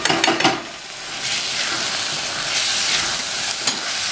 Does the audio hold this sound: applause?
no